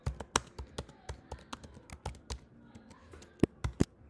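Code being typed on a computer keyboard, a quick irregular run of sharp, close key taps with a few louder strikes near the end, no voice over it.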